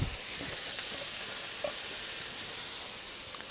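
Mushrooms fry in ghee in a pan, giving a steady, close hiss of sizzling with faint pops and occasional stirring.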